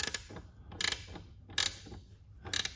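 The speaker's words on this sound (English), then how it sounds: "Nice to have one of these little flexible head wrenches" A small flexible head wrench tightens a motorcycle horn mounting bolt on a 2018+ Honda Goldwing, giving three short bursts of metallic ratcheting clicks, close and fairly quiet, with soft handling noise between them.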